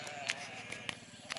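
Sheep on the Foel Caerynwch hillside, gathering behind a farmer's quad bike, give faint, distant bleats that come in a few short bursts over a soft outdoor background.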